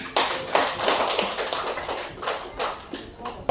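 Participants in a teacher training session clap their hands after a breathing exercise, a short burst of uneven, moderately close clapping that swells and tapers in loose waves.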